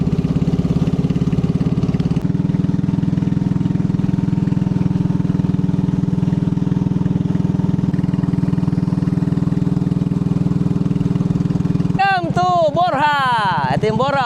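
A steady low engine drone runs throughout, loud and constant, with a brief burst of chirpy, whistling sounds near the end.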